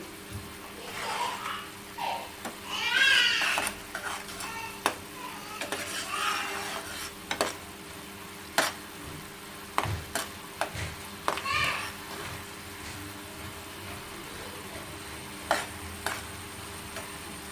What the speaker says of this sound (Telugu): వాటర్ అంతా ఇంకిపోయాక ఇది రెసిపీ అనేది చిక్కగా అవుతుంది అప్పటి వరకు ఇలా కలుపుకుంటూనే ఉండాలి